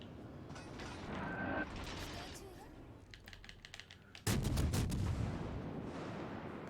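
Heavy naval gun salvos from World of Warships Legends, a muffled boom and then a loud, dense burst of cracking shots about two-thirds through, set against steady battle ambience and a few clicks.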